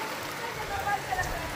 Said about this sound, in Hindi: इतना बारिश तेज हो गया दोस्तों